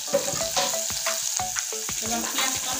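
Chopped onion hits hot tempering oil in a pan for a Bengali taro and fish-head curry, giving a dense, loud sizzle broken by repeated scraping stirs at an irregular rhythm.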